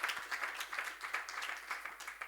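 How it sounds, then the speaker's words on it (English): An audience at an interfaith panel event gives a round of applause. The clapping is soft and fairly distant, with a steady patter of many hands over a couple of seconds. "I think also that deserves a round of applause"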